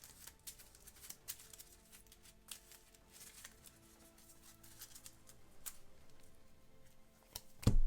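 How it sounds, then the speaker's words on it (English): A deck of game cards is shuffled during a solo tabletop game, giving faint, close riffles and soft taps scattered through the quiet, ending with a louder thump. "take my discard pile and the level 2 ones, shuffle everything together."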